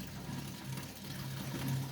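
Water from a 600-litre home aquarium draining back down into the sump below, a low steady gurgling trickle with a faint mechanical hum, quiet and without talk.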